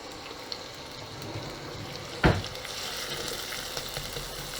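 Onions fry in a potjie pot with a steady soft sizzle throughout, broken by one sharp scrape or knock of stirring partway through, close and unaccompanied by talk.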